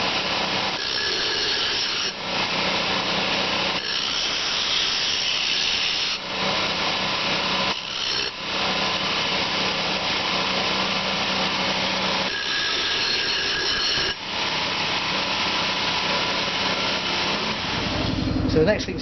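Power tool grinding the burrs off a steel bushcraft knife blade, a steady harsh close-up cutting noise for nearly twenty seconds with a few brief dips.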